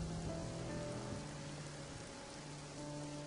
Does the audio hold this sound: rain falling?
yes